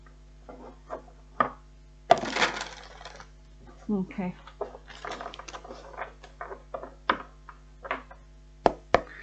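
Tarot cards being shuffled by hand give a series of short, dry papery riffles and soft slaps in irregular bursts, close and fairly quiet, with a brief spoken word mixed in.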